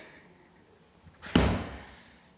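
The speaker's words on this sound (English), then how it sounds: "you're going to slam the ball on the ground and squat." An exercise ball slammed onto the ground during a ball-slam squat drill in a workout, one sharp, loud thud standing alone after a quiet moment, then a short fading tail.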